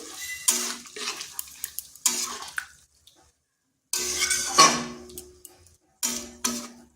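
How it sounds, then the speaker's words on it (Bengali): Water splashes into a cooking pan of ivy gourd and soya chunks in a few separate pours, each a short burst of gushing hiss with brief pauses between. "এরপর এখানে দেব জল"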